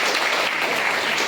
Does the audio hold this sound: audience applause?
yes